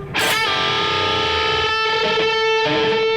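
A distorted electric guitar plays a quick lick with a bent note that sustains, loud and saturated, ringing without talk.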